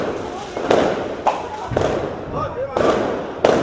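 Fireworks over the city side of Da Nang, Vietnam, explode in a run of sharp, loud booms and cracks, roughly five big blasts, with people talking and exclaiming around them.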